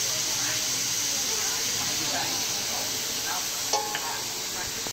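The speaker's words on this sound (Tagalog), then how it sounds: "Haluin lang natin." Chicken sotanghon soup with vegetables and Chinese celery is stirred in a pot, giving a steady close hiss and sizzle with soft scraping throughout and a brief louder knock near the end.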